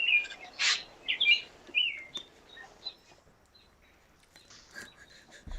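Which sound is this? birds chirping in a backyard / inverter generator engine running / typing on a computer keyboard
birds chirping in a backyard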